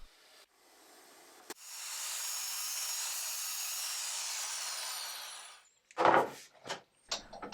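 A saw cuts steadily through the rotten bottom of an old wooden cupboard side, a continuous rasping stroke lasting several seconds before stopping, followed by a few clattering knocks of wood being handled.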